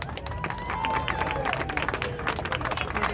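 An audience claps and cheers for a pastor of The Movement church in Van Nuys, California: steady, dense applause with crowd noise throughout, moderately loud and fairly close.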